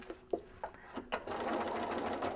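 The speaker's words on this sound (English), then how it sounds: "that became actually the fastest way for me to sew." A sewing machine starts with a few quick separate stitch clicks, then runs into a steady, fast whirring stitching hum, close and fairly quiet.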